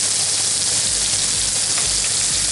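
Filet mignon sizzles steadily in a hot pan, a loud, continuous crackling hiss with no break and no voices.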